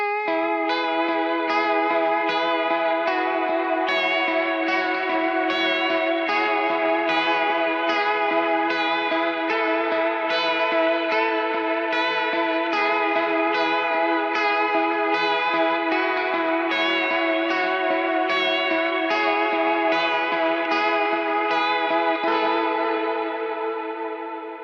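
An electric guitar picks a steady, repeating arpeggiated pattern through three chords of the worship song Praiseworthy, soaked in delay, echo, chorus and light drive, running continuously at an even volume with no talk.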